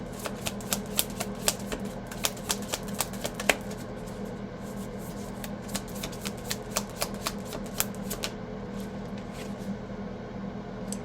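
Tarot cards are shuffled by hand, a run of sharp, close card snaps and riffles that is busiest early and thins out later, with a low steady background hum and no talk.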